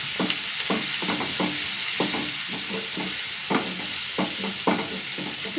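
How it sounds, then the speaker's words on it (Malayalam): Green chillies and onions sautéing in a pan, with a steady sizzle and frequent scraping strokes of a spatula across the pan in an irregular rhythm, close and moderately loud, with no talking. "2 പച്ചമുളക്, നന്നായി വഴറ്റിയല്ലേ? നന്നായി വഴറ്റുക."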